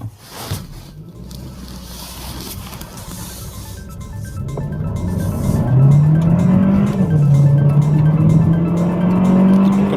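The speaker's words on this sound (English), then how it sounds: "So let's go ahead and fire it up this hill and see how it goes." A 2023 Hyundai Kona N-line with all-wheel drive accelerates up a hill, its engine droning and rising in pitch through the gears, the sound growing louder and strained as it climbs, with no talking.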